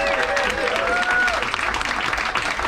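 Cruise ship audience applauding the hotel manager aboard the Viking Radgrid, dense loud clapping throughout with a voice speaking over it.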